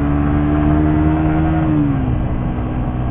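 A manual-clutch motorcycle engine with worn gears runs steadily and loudly while riding on a rough road, then its pitch drops as the rider shifts gear partway through.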